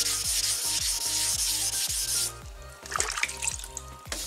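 Wet sanding by hand on a car's clear coat to level paint runs and orange peel, a close, steady back-and-forth rubbing with a rhythmic scrubbing beat, wet and gritty, alone without talk.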